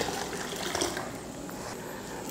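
Water being poured into a rasam mixture of tamarind, salt and spices, a steady close splashing stream that continues evenly without pause.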